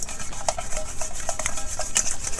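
Fish pieces being mixed by hand or spoon with salt, turmeric and chili powder, soft repeated wet rubbing and light clinks in a close, steady rhythm, with no talking.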